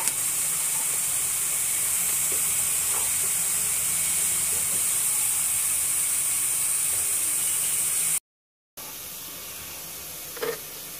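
Grated carrot frying in a pan of hot oil, a steady close hissing sizzle throughout with a brief dropout and a faint clink near the end.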